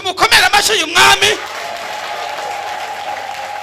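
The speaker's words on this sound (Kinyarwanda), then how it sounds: "tumukomere amashyi uyu mwami" Audience applause at a live talk: a few loud bursts of clapping and cheering mixed with voices at the start, then dying away to a quiet room tone.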